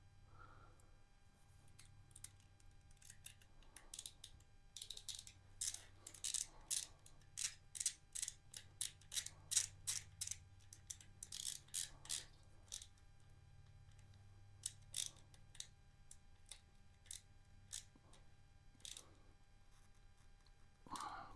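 Screw being tightened into a battery terminal on a Lifan KPM 200 motorcycle during a battery replacement, producing a long run of rapid ratcheting clicks in close, uneven bursts over a low steady hum.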